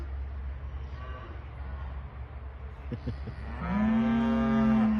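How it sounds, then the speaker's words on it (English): A cow lets out a long, loud moo nearby, rising at the end, after a stretch of low outdoor rumble with faint knocking from a field of cattle next to a campsite pitch. "Can you see all them cows?"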